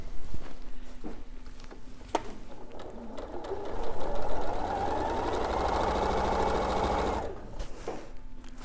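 A domestic sewing machine stitches pleats into fabric in a busy rapid run that swells from about three seconds in and stops near seven seconds, with a few clicks and handling sounds before and after.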